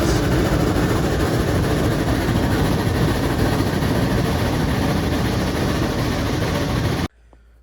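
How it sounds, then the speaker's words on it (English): A double-headed steam train led by two Shay steam locomotives climbs toward a mountain summit, a loud, steady, dense rumble of engine and rolling wagons that continues unbroken for seven seconds before cutting off abruptly. "a double-headed steam train led by 2 Shay steam locomotives"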